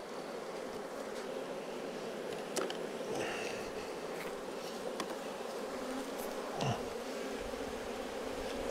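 Honey bees buzz in a steady, dense drone throughout while a single colony is split into four using queen cells, with a few brief louder passes of nearby bees and no talking.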